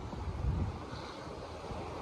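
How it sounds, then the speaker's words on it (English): Strong gusting wind during a severe thunderstorm with tornado warnings roars steadily across the microphone, a deep rumbling buffet that swells early then holds at a constant loud level, with no voices. "Look how fast that wind is."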